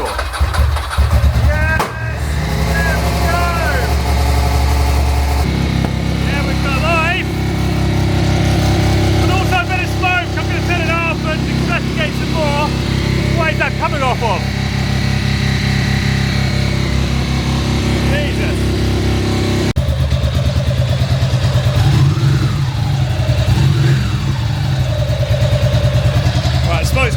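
A Ducati motorcycle engine runs steadily after being started with the choke on, its loud, continuous near drone holding throughout while someone talks over it.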